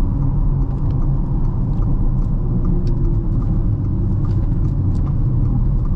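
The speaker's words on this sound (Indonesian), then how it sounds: "Ini kayak ada suara mesin dari luar tuh kayak kedengeran banget gitu loh guys." Engine and road noise from outside carries into the cabin of a moving Wuling Binguo car, a steady, loud low rumble with faint ticks above it and no talking.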